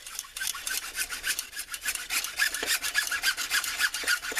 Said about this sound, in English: Remember, a good hacksaw is the key.